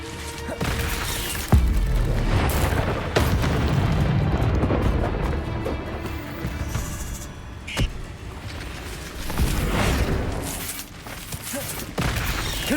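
Bombarda explosion spells in the Hogwarts Legacy video game, several deep booming blasts spread through a dense, continuous din of spell effects and combat noise, loud and close, with a few sharp cracks standing out.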